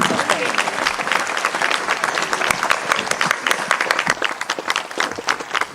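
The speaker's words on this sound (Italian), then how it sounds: "Avete il piacere di applaudire e apprezzare ancora una volta Caterina Murino" Enthusiastic crowd applause at an evening live show in Tortolì, dense rapid clapping that stays loud and lively throughout, with a few individual claps standing out near the end.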